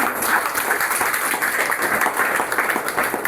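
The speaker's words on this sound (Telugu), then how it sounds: "సో ఇంకొకసారి చప్పట్లు కొట్టుకోవచ్చా?" Loud, continuous clapping from an audience at a team meeting, a dense steady patter of many hands close by that holds throughout.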